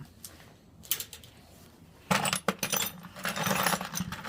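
Metal bolts clinking and jangling as hands rummage through a bucket found at the curb, a few light taps, then louder bursts of rattling metal close by.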